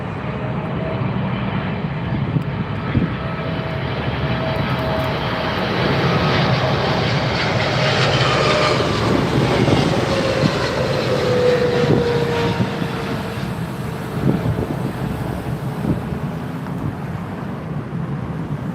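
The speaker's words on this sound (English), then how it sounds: "I'm looking forward to seeing this Etihad A380." Etihad Airbus A380 landing on runway 27R at London Heathrow, a steady loud jet roar with a slowly shifting whine, sustained throughout with some wind buffeting on the microphone.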